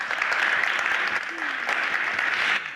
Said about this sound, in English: Let's give Shanda a round of applause.